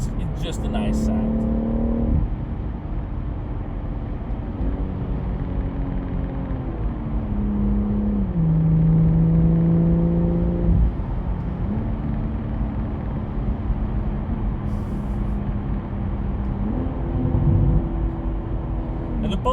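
A BMW M140i fitted with a Remus exhaust drives and revs, its engine note rising and dropping through several gear changes, a deep continuous drone heard from inside the car with little else over it.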